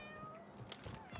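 A cat meows in the video game Warzone 3, one short faint mew heard over background game noise with no talk.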